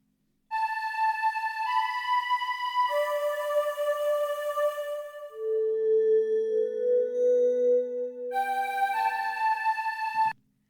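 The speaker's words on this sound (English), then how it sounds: "There's a Wavestation vocal sound, which is based on the Airvox patch, and the Roland JD800 Hearts of Space preset." A Korg Wavestation Airvox-based vocal pad and a Roland JD800 Hearts of Space preset play sustained, airy tones shifting through a slow descending line, clear and alone before cutting off abruptly.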